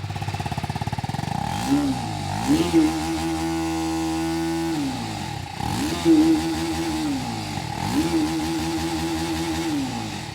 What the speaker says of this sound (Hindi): ऐसा भयंकर एग्जॉस्ट साउंड लेकर आई है ये बाइक